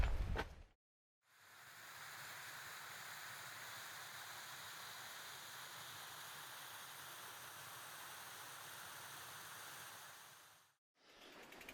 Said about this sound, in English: there is a waterfall, which apparently you can only see in the spring